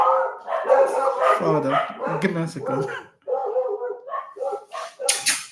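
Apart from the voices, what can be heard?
puppy barking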